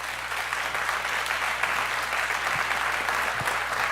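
A church congregation applauding during a celebration service, sustained even clapping from a large room with a few sharper claps standing out, no voices on top.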